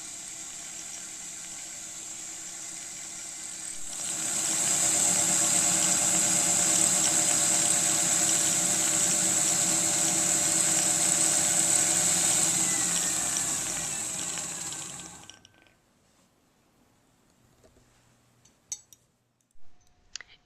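An antique Singer sewing machine winds a bobbin with a steady, fast, high-pitched whir. It starts after a quiet lead-in, holds for about ten seconds, then spins down, followed by a few scattered clicks.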